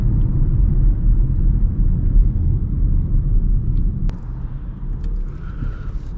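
Volkswagen Tiguan S driving onto a Southern California freeway, heard as a steady, loud low rumble of engine and road noise inside the cabin, continuous throughout with no talking.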